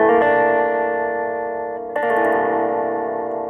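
Guitar chord built on a major triad with added sixth, seventh and ninth, sustaining with a rich, effects-laden reverberant tone, then struck again near the two-second mark and left to ring.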